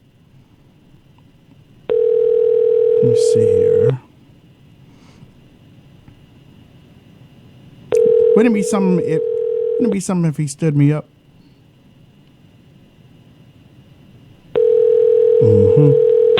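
Ringing of a telephone call placed during a live radio show, heard as three long steady tones with pauses between them, loud and close, while someone speaks over and between the rings.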